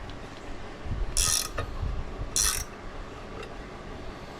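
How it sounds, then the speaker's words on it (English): A wrench ratchets on the clutch of a Polaris General XP1000 during a clutch kit install, giving two short, sharp bursts of clicking close by over a faint background hum. "Pull that wrench for me."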